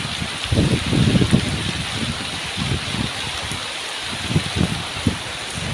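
Heavy rain pours steadily and loudly on a farm field, a dense hiss with irregular splashy thumps of water hitting nearby surfaces.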